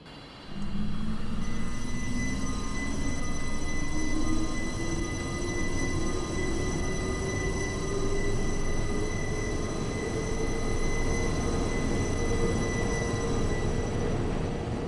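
A simulated Arosa Line train pulls away from Litzirüti station in Switzerland. A steady, loud rolling rumble carries a motor whine that rises slowly in pitch as the train gathers speed, with faint high squeals over it throughout.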